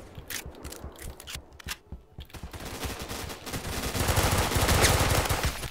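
Rapid automatic gunfire in the online shooter game Phantom Forces: dense, crackling bursts of shots that build in loudness and intensity toward the end, with no talking over them.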